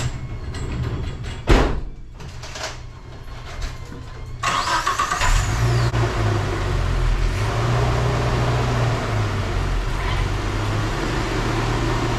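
Geo Tracker fitted with new power steering and air conditioning, started up and driven out on a test drive, a door clunk and engine starting followed by a steady mid-pitched engine drone, no talk.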